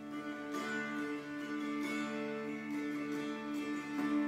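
Dulcimer played during a Sunday worship service, a soft sustained tone with gently struck notes drifting at low volume, alone without voices.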